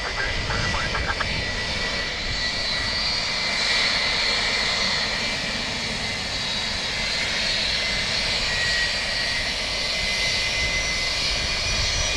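An airplane lands on runway 28 left at Dublin Airport with a loud, continuous jet-engine roar and high whine. The sound holds steady throughout, with no break.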